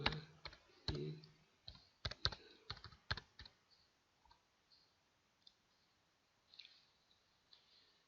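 Quiet computer keyboard typing in AutoCAD 2016, a burst of quick uneven keystrokes and clicks close by, then sparser faint taps trailing off into near silence.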